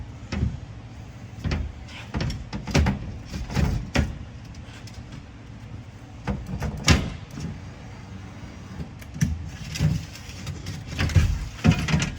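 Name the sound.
Cadillac Escalade rear door glass popping into place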